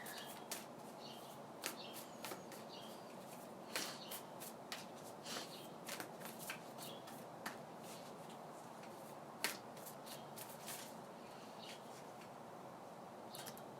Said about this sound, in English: let me just shuffle and pull a card here